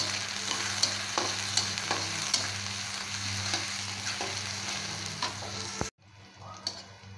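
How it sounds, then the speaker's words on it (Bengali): Chopped onion and green chili frying in a pan while being stirred, a steady close sizzle broken by scraping spoon strokes, stopping abruptly near the end. "এখন আমি পেঁয়াজ এবং কাঁচামরিচটা ব্রাউন কালার করে ভেজে নেব।"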